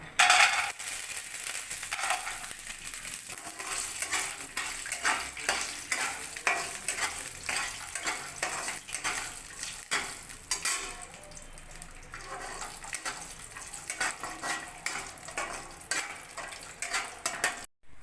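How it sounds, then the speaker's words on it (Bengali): Cashews fry in hot oil in a wok over a lit stove, giving a soft, fairly quiet crackling sizzle broken by frequent scrapes and light stirring clatter from start to finish. "কড়াইতে তেল দিয়ে দিয়েছি। এবার আগে কাজুগুলো একটু ভেজে নেব।"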